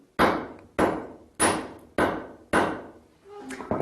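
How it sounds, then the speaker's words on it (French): An old hammer strikes and refines a metal rod. Five sharp, loud, evenly spaced blows ring out, each decaying quickly, followed by a softer knock and a clink. "c'est avec ce vieux marteau-là que l'on va l'affiner"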